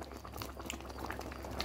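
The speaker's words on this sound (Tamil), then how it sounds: "இங்கே பாருங்கள் நல்லா கொதிக்குது." Aubergine curry boiling in a pot, with a continuous close bubbling and soft popping of thick liquid, steady and moderately quiet, with no one talking.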